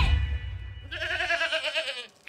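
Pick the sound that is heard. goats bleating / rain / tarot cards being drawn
goats bleating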